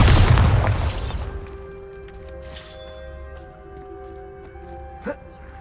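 A Bombarda spell detonates in Hogwarts Legacy, a loud, close boom with a burst of debris that rolls off into a lingering ringing tail over steady game ambience, with a sharp small pop near the end.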